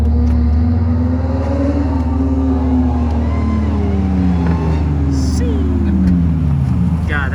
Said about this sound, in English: God, that supercharger sounds good.